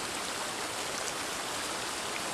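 Waterfall and stream at a backcountry water source in the Emigrant Wilderness, producing a steady, broadband rush of flowing water that holds even and unbroken at a moderate, fairly distant level.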